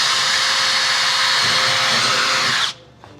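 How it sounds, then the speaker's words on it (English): A power drill whirs loudly and steadily at close range for several seconds while drilling screw holes on a 1932 Ford build, then abruptly stops, leaving a brief faint rattle. "let's drill some holes"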